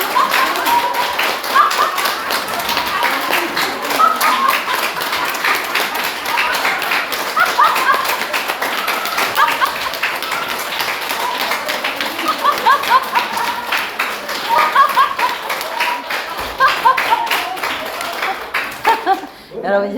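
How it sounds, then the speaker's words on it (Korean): A church group claps fast and loudly while laughing heartily in a one-minute laughter-clapping exercise, rapid continuous hand claps under overlapping loud laughter and voices, close and energetic throughout. "박수 치고 우리가 제일 기뻤을 때 그 모습을 박수 치는 거예요."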